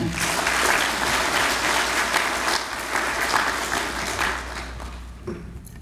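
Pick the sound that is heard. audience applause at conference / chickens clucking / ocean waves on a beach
audience applause at conference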